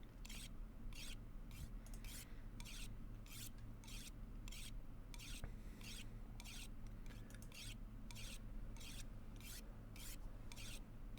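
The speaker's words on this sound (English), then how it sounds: "I'm sharpening my hatchet right now" Scraping strokes sharpen a hatchet in the survival game The Long Dark, repeating at an even rhythm in a long series of short rasping passes over a low background hum.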